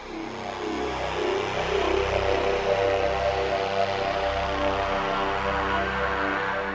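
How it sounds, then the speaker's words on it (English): A synthesized spaceship-like tone, the kind used to suggest an alien craft, drones steadily on its own with layered harmonic hums and a slow pulsing low throb, loud and continuous throughout. "And another synth sound, which could illustrate an alien spaceship."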